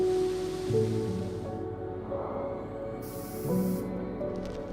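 Bursts of spray-can hiss, one long spray followed by a sharper short burst, close by, over a faint musical background.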